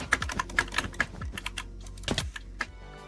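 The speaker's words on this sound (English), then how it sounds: "Even the keyboard itself has a beautiful aluminum frame, gorgeous RGB, and a sound that could make an angel weep." Crisp, rapid keystrokes on a Keychron Q3 mechanical keyboard with an aluminum frame, close and clear, clattering in quick irregular bursts with no talking.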